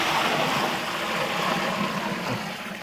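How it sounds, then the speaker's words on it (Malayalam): Water pours steadily into a pot of chicken kabsa with green chillies, a close, continuous rushing splash that fills the short moment without voices. "കുറച്ച് വെള്ളം ഒഴിച്ച് കൊടുക്കണം."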